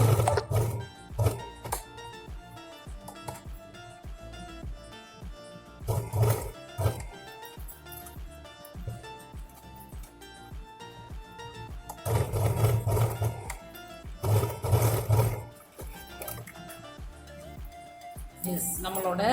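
A sewing machine stitches a leather handbag in bursts of rapid mechanical whirring, starting and stopping repeatedly, fairly close.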